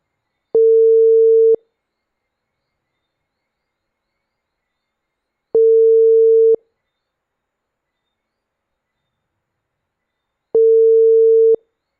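An unanswered phone call rings out on the line, three identical one-second electronic ring tones spaced about five seconds apart, clean and alone with silence between.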